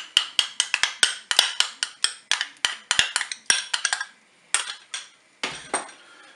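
A utensil stirring crème fraîche into chicken paupiettes in a Cookeo pot, giving a quick run of sharp clinks and taps against the pot, with a brief pause before a few more knocks.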